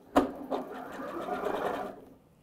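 A sewing machine stitches the seams of a satin cap in one close run of rapid mechanical whirring, starting with a couple of sharp clicks and stopping near the end.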